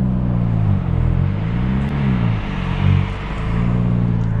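A 2019 Hyundai Veloster N with a manual gearbox accelerates, its exhaust giving a loud, continuous low drone heard from inside the cabin that rises and falls with engine revs.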